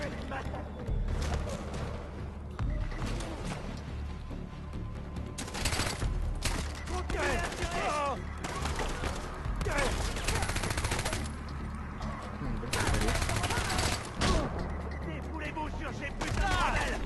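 Far Cry 4 gunfire: dense bursts of automatic weapon fire and repeated shots run throughout, loud and continuous, with game voices talking over the shooting.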